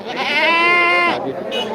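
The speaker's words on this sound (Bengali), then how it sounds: "এটা কি খাসি না ছাগি" A female goat at a busy livestock market in Muradnagar, Cumilla, gives one loud, drawn-out, quavering bleat close by, followed by brief crowd noise.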